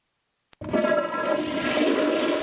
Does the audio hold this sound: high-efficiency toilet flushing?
yes